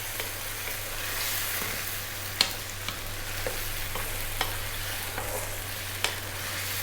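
Crushed canned plum tomato fries in a pan for a sausage cheesy pasta. A constant, fairly loud sizzle carries throughout, with sharp scraping knocks from the stirring every second or so.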